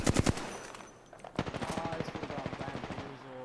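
Automatic gunfire in the video game Apex Legends: a few sharp shots, then a rapid sustained burst of close rifle fire with players talking over the action.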